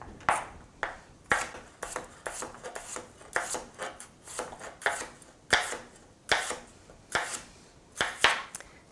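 A knife slices potatoes into thin slices on a cutting board, making a steady series of crisp, close chopping taps about once a second, clear and with no speech.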